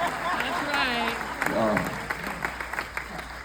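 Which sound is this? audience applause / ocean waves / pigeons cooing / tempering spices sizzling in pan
audience applause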